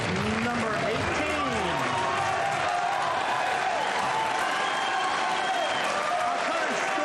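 Crowd applauding and cheering in the arena during a 2024 US Open Pool Championship semi-final between Joshua Filler and Shane Van Boening, a dense sustained roar of claps and voices with speech running through it.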